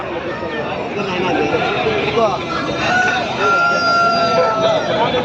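Roosters crow amid the steady crowd chatter of a Sunday chicken market where large cockerels are being sold, with bargaining voices and clucking close around and a drawn-out crow standing out partway through.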